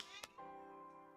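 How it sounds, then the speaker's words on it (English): A single drawn-out cat meow, soft and close, following a brief click. "Why are you meowing at me?"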